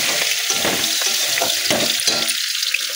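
Small shrimp go into a pan of frying potatoes and spices and are stirred, giving a loud steady sizzle broken by scraping, stirring bursts.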